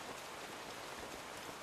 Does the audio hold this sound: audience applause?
no